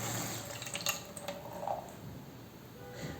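Water poured onto a tilted karst landscape model to mimic rainfall, giving faint, quiet dripping and trickling with a few soft splashes and no talking.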